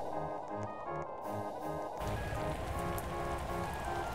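Acid rain falling in a Roblox video game, a steady soft patter of raindrops on surfaces that thickens into a denser wash partway through, fairly faint and with no talking.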